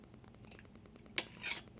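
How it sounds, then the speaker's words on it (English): Scissors snip a small ribbon bow on a craft decoration, giving one sharp close cut followed by a brief rustling trim, alone with no talking. "Trim it up a little bit."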